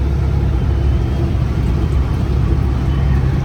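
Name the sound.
Kenworth truck engine fan with air leak at fan clutch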